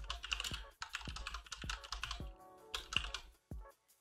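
Keys on a computer keyboard clatter in quick irregular bursts during coding, close and fairly quiet, with short pauses between runs of keystrokes and no voices.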